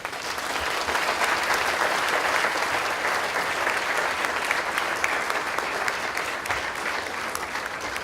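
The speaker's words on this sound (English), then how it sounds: "Let us give them a round of applause." Audience at a Hong Kong delegates' conference gives sustained applause, a dense steady wash of many hands clapping, fairly loud and even throughout, without speech.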